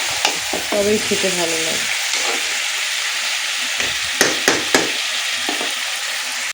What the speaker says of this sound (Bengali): 20 মিনিট 15 মিনিট 20 মিনিট নাড়লেই কষানো হয়ে যাবে